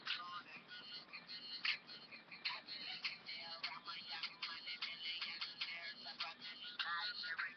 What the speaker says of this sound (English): There's a ringtone right there.